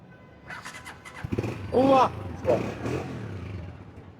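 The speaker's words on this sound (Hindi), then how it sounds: "सेल्फ स्टार्ट चालू जी जी चालू है" Honda CG 125 motorcycle with self-start cranking and catching, a short engine burst rising mid-clip amid outdoor voices talking nearby.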